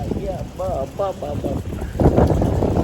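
Strong wind buffets the microphone with a steady roar during a bicycle ride, trees swaying, rising louder near the end, while a voice speaks briefly early on.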